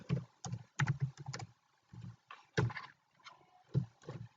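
Typing code on a computer keyboard, close and clear, in short clustered bursts of keystrokes separated by brief pauses, with no talking.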